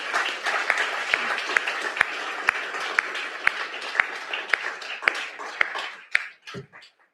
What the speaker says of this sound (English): please join me in a round of applause for the candidates for Mayor of Orange.